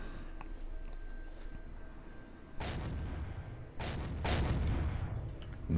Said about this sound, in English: I've circle strafed the ship a couple of times with the minigun and the rocket launcher and C4 charges